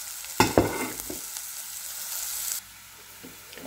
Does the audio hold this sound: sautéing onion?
yes